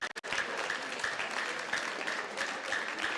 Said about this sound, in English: Let's give all of our alliances a round of applause.